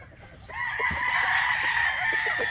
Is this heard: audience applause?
no